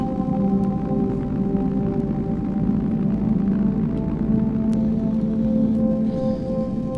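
A synthesized wind texture from a soft-synth soundscape rig fills the mix as a steady, even wash, joined by sustained droning tones, with no talking.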